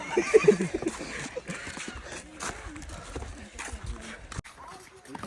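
A horse nearby at Banbha hill station, with hoof clip-clop and a brief whinny near the start, under chatter from people talking.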